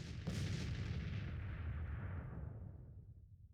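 Confederate cannon fire in a Civil War strategy game, Grand Tactician, a heavy booming blast that rolls out into a long rumbling decay, loud and unaccompanied by speech.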